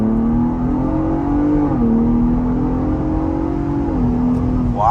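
A 2023 Ford Bronco Raptor accelerates hard off the line in two-wheel drive, its engine droning loud and steady with rising pitch and a brief gear-shift dip, close and continuous with no talking.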